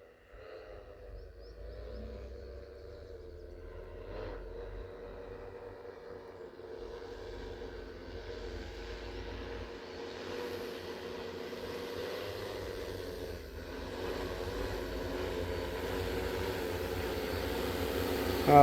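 Agricultural drone spraying a pigeon pea crop in a field, a steady droning motor hum that slowly grows louder and nearer throughout.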